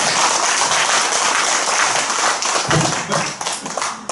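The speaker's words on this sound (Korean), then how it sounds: "큰 박수를 해주세요" Audience applause at a Sunday Buddhist dharma service, a dense steady wash of clapping that thins out and trails off toward the end.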